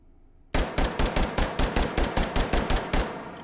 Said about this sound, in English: On to the recoil test. We've got 13 rounds of 45 ACP.